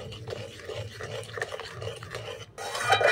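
A spoon stirs sugar into a chopped watermelon mixture, giving a continuous close scraping and swishing with small clinks against the bowl and no speech.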